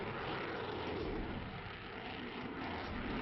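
Fighter jets roaring overhead during an Indian Air Force exercise in the northeast, a steady broad engine roar filling the whole clip at constant loudness with no break.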